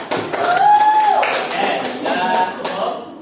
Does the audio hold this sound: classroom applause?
yes